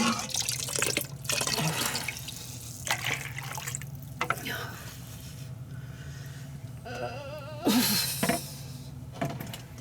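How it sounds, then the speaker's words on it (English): Water poured from a measuring cup out of a pot of cooking corned beef flat-cut brisket, splashing and dripping in uneven bursts into a sink, close by. "I've got this measuring cup, and I'm just pouring the water down and getting this water out."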